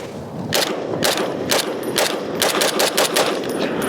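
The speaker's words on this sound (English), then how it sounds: "We're just shooting a target like 10 yards, 7 yards out on cardboard, just get a feel for it" Shots ring out from a Springfield Armory M1A SOCOM 16 rifle fired at a cardboard target roughly seven to ten yards away, about eight loud, sharp cracks in quick, fairly even succession, close and dominant.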